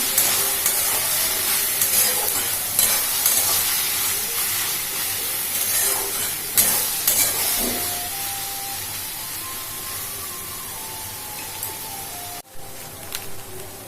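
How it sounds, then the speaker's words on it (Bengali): Vegetables stirred in a pan with soy sauce give off a steady steamy sizzle and hiss, with occasional scraping of the spoon, close and moderately loud, before an abrupt cut near the end. "দিয়ে সবজিটা ভালো করে নেড়ে নেব"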